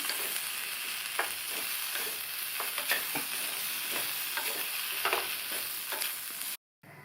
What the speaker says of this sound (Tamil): நல்லா ஒரு தடவை மிக்ஸ் பண்ணி விட்டுடலாம்